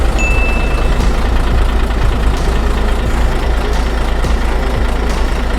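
A Hino Victor FL8J ten-wheel truck's 260-horsepower engine idling up close, a loud, steady low diesel rumble that continues without a break.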